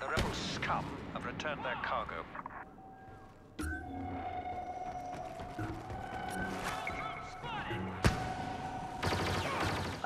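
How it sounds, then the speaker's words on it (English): Repeated explosive blasts from shock grenades in an online team shooter game, loud booms with sharp onsets around four and eight seconds over a busy mix of game effects and background noise. "I love the shock grenade."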